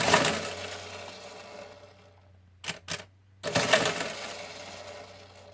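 A Monroe KA electromechanical calculator performs a subtraction, with a whirring mechanical run that fades, then two sharp clacks followed by another churning burst of gears, close and fairly quiet.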